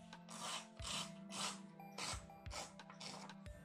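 Paper for an origami koi carp being cut with scissors or a scalpel along a ruler, giving repeated rasping snips in a steady rhythm, close and fairly quiet with no talk.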